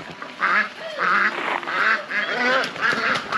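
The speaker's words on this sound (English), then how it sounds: "See, three ducks." Three ducks quack and honk repeatedly in close succession, nearby and fairly clear, with no talking.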